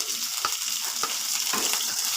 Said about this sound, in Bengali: দেখুন এবারে পেঁয়াজ কুচানো দিয়ে দিচ্ছি।